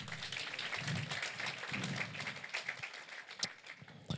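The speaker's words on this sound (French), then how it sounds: "vous pouvez l'applaudir" A church congregation claps steadily for the pastor's wife during a worship service, with dense, sustained clapping filling the room at a moderate level.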